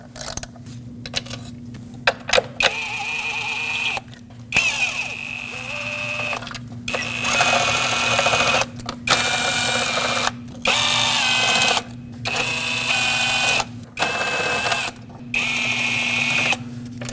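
Power tool breaking loose 5mm Allen head bolts on the intake manifold of a Lexus IS250, with repeated whirring bursts separated by short pauses and a steady low hum underneath, close and loud.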